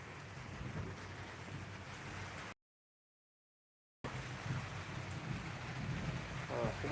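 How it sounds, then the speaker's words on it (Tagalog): Typhoon rain falls steadily in Bicol while thunder rumbles faintly in the distance; the sound cuts out briefly in the middle, then the rain resumes with some low thunder. "Kumukulog na naman."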